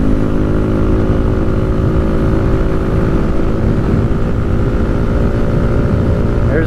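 A 2023 Kawasaki Z125 Pro motorcycle climbs uphill under steady throttle, its small engine droning loud and constant with a buzzy, even note throughout and wind noise around it.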